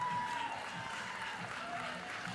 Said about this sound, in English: The LSU fans are seeing the replay and applauding it